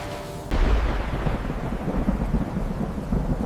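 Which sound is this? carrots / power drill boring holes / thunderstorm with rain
thunderstorm with rain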